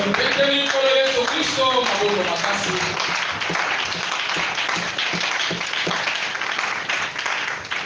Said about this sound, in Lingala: Acclamons très fort pour la gloire du Seigneur